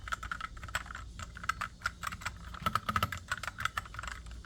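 Rapid clacky keystrokes from a mechanical keyboard fitted with brown or blue switches, typed in an uneven steady stream with a denser burst near the middle, close and fairly quiet, with no talking.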